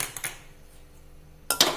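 A metal pan is set down on a gas stove in a home kitchen, giving a couple of quick clinks near the start and a sharper clatter near the end, with a quiet pause between.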